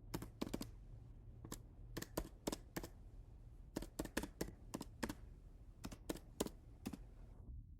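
Crisp keystrokes on a computer keyboard as a task name is typed, coming in quick irregular bursts of clicks with short pauses, close and fairly quiet, with no voices.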